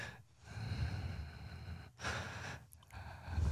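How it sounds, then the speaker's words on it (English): Deep, slow breaths are drawn in and pushed out as part of a group breathing exercise. The airy inhales and exhales are close to the microphone, with soft pauses between them and a low rumble underneath. "take a quick 5 seconds and let's focus on our breathing"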